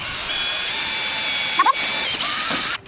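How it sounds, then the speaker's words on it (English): A power drill whirs steadily at close range while building a dog house, briefly dipping and catching twice before cutting off abruptly at the end. "You're gonna be the one to drill, okay? Drill straight down."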